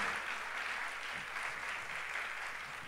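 A church congregation claps steadily together during a live worship night, a dense, even wash of many hands that holds at moderate level throughout without a break.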